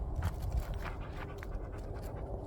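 Rescue dog on a farm after a freeze, quick soft panting breaths heard close, with a few light thumps underneath and no talking.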